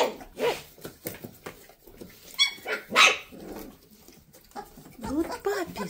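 Weimaraner puppies give scattered high yips, barks and whimpers in short bursts, mixed with a person calling to them and some rustling nearby.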